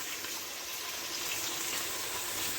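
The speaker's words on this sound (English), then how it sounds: "wash my rice. This is my Royal Feast jasmine rice. I wash it" Royal Feast jasmine rice is rinsed in a steady stream of running water, a continuous close splashing hiss with no breaks and no talking.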